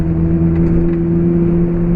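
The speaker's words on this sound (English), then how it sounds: "it's so loud where it kind of vibrates in here a little bit because the exhaust is so loud" Loud exhaust of a lowered car droning at steady revs, a strong, even low hum with a constant tone throughout and no talking.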